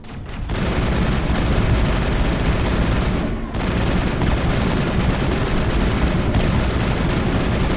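Dense rapid gunfire from a firefight in the video game Mass Effect, loud and nearly continuous, with a brief dip in the middle before the shooting resumes.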